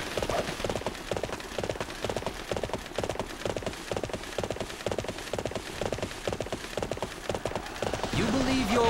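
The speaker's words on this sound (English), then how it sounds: "Look at my horse. My horse is amazing." Horse hooves clip-clopping in the Dynasty Warriors 7 video game, a steady, even trot of rhythmic clopping throughout, with game sounds rising briefly near the end.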